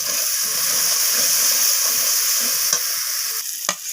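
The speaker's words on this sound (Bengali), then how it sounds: "তো আমি মশলার সাথে নাড়াচাড়া করে কষিয়ে নিচ্ছি।" Spice paste with green chillies stir-fries in a pan, giving a dense, even sizzle up close, with a few sharp scrapes of the stirring utensil toward the end.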